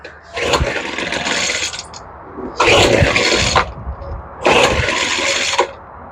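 A Poulan Pro leaf blower that won't start after sitting is pull-started three times at full choke, each tug a rough, sputtering turnover of about a second before the engine dies away again.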